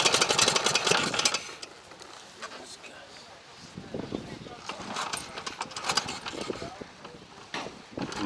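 A BMW motorcycle engine runs at a morning camp of motorcycle tourists, a modest uneven mechanical chatter and ticking under close voices and nearby activity.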